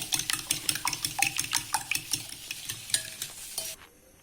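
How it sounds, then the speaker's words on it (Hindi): Eggs for chicken resha kabab are whisked briskly in a bowl, a fast, steady run of close utensil clicks and taps against the side lasting several seconds before stopping abruptly. "अंडों को तोड़ के अब हमने अच्छे से बीट कर लेंगे"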